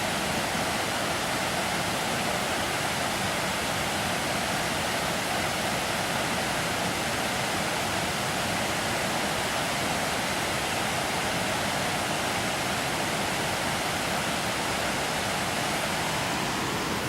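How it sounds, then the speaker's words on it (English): A creek with a strong, quick flow runs near the fourth dam on the Second Broad River outside Henrietta, North Carolina, giving a steady broadband rush of water that holds even and unbroken throughout, with no voices. "That creek's got a pretty good flow in it, see it?"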